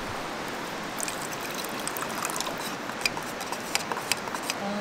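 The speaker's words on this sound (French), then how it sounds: "On va mettre un peu d'eau." Water trickles and splashes steadily for about five seconds, poured out at a campsite meal during a kayak trip, with faint clinks over the continuous wash and no voices.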